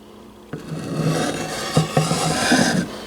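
A Hooyman machete blade is drawn across a sharpening file or stone in a few rough, rasping strokes, close and fairly loud, with brief knocks between passes.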